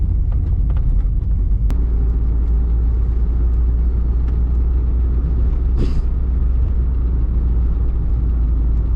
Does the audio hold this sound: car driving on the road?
yes